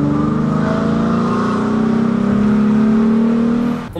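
A modified Ford Mustang engine revs loudly and steadily up close, its rumbling tone climbing, then cuts off abruptly at the end.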